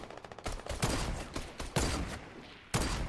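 Fortnite gunfire in bursts: a quick rattle of rapid shots opens, then heavy single and double blasts land at irregular intervals, each loud and close with short decays between.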